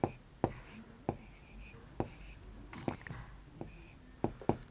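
A pen or chalk scratches by hand during a class 3 maths lesson, a series of short, sharp strokes and taps spaced irregularly, close and quiet with faint murmured voice between them.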